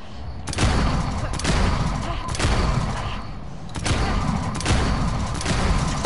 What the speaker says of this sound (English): I'm shooting y'all right now. Zombies, bro.